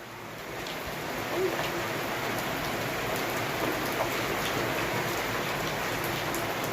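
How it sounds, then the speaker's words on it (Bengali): Heavy rain pours down steadily in a dense, hissing wash, with a faint voice briefly audible. "মুসল ধারে বৃষ্টি হচ্ছে দেখ"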